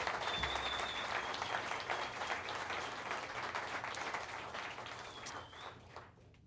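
An audience gives sustained applause for a community college jazz orchestra at a concert. The dense clapping holds steady for several seconds, with a faint whistle in it, and then fades away.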